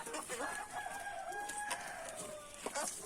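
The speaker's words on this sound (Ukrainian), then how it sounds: "Також Маємо курей." A rooster crows once, a long drawn-out call, with faint clucking and a little outdoor background noise.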